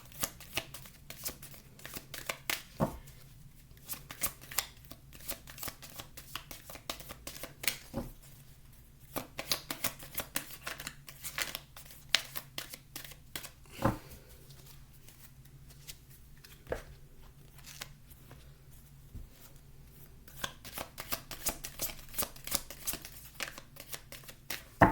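Tarot cards shuffled steadily by hand, a fast irregular run of crisp riffles and slaps, close and fairly quiet, with no talking.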